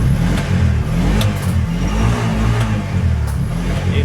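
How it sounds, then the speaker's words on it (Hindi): A Bajaj BS6 auto rickshaw engine, just after its error codes were erased, runs and revs steadily with a dense low rumble and continuous mid-range drone, loud and close, without speech. "फिर भी हम गाड़ी स्टार्ट करेंगे।"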